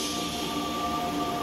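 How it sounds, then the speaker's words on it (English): A burning train rolls past in Call of Duty Zombies on the Mauer der Toten map, a loud steady rumble of rail wheels with a faint metallic squeal throughout. "Then you just see this train come by on fire."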